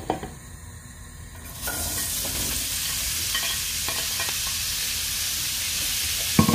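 Mushrooms hit hot olive oil in a pan and settle into a steady sizzle, with occasional stirring scrapes and clinks close by.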